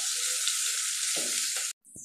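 Garlic, onion and dried shrimp heads fry in hot oil, giving a loud, steady sizzle for almost two seconds that then cuts off abruptly, followed by a short faint scrape.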